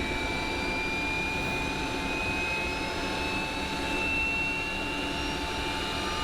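Steady, loud jet engine roar with a whining tone as the number 2 engine of a 1976 Boeing 727 starts, heard from the cockpit with no talk.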